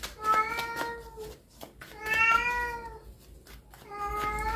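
A cat meows three times, each call drawn out and fairly close, separated by short pauses against a quiet room background.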